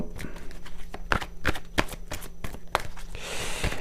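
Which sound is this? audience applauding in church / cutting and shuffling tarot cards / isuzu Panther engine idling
cutting and shuffling tarot cards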